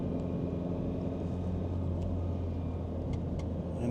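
A 2000 Nissan Silvia S15 Spec R engine rumbles steadily from inside the moving car as it is given gas, a low continuous drone with road noise and a few faint clicks.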